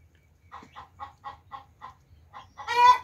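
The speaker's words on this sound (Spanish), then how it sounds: "Es una pollita fina" Young small-breed hen clucking in a series of about eight short, evenly spaced soft clucks, close and quiet, ending in a louder, longer squawk.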